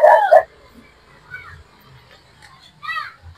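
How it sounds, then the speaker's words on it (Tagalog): A dog gives a short burst of yelping barks up close, followed by quieter whines and a distant yip, with faint background noise. "tinatawalan pa kami ng aso"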